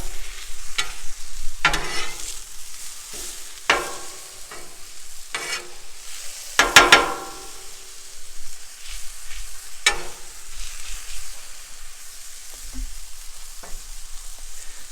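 A thin pizza crust topped with mushrooms and pepperoni sizzles steadily on a Blackstone griddle, broken by scattered scraping and tapping of a spatula, with one sharper metallic clatter midway.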